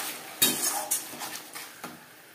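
Onions and spice paste fry in a pan for a Bengali bhola vetki fish curry, a spatula scraping and knocking in a few distinct strokes over a faint sizzle.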